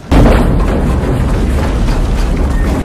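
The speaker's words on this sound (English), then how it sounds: "with all these explosions and all this fire" Roaring explosions and fire in a burning coliseum from the action film Double Team, a dense, continuous booming rumble that stays loud throughout with no speech over it.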